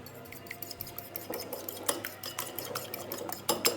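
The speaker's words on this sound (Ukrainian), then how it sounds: "Беремо виделочку. І це все перемішуємо." Egg beaten with a fork in a dish for a casserole topping, rapid close clinking and scraping of metal against the bowl, building in intensity, no voices.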